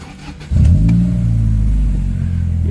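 A 1998–2002 Honda Accord engine cranks and catches, then settles into a loud, steady idle with a low rumbling hum close by.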